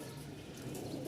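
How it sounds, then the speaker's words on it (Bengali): Pigeons at a Mirpur, Dhaka pigeon seller's coop coo softly in the background, a faint low murmur with no talk. "আপনারা যারা ভালো কবুতর নিতে চাচ্ছেন তাদের জন্য এই কবুতরটা।"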